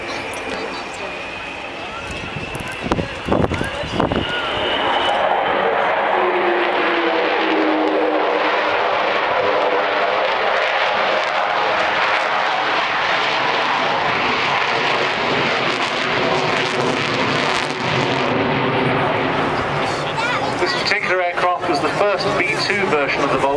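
An Avro Vulcan XH558 bomber roars through a flying display at Dunsfold, its loud, sustained jet thunder swelling and holding for most of the stretch, with a public-address commentator talking over it.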